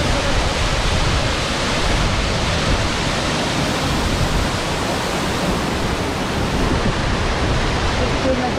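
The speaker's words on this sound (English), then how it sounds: "Watching the waterfall right there." Waterfall in Ketchikan, Alaska, in cold weather: a loud, steady, broadband rush of falling water that holds unbroken for the whole stretch with no pauses.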